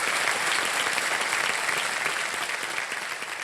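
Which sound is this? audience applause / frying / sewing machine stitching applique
audience applause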